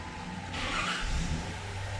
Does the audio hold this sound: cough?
no